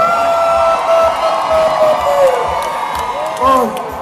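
A crowd at the 2019 Beijing Burger Festival screaming, whooping and cheering on cue, loud and sustained with high sharp yells rising in bursts, mixed with shouted voices.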